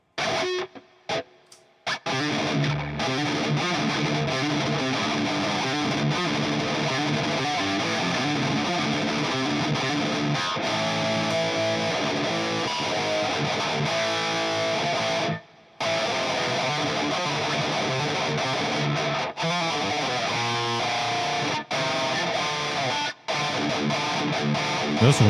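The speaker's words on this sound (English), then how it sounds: "My distortion is so nasty." A 7-string electric guitar pours out thick, heavily distorted riffing, loud and continuous, with a few brief cut-outs where the sound drops away before surging back.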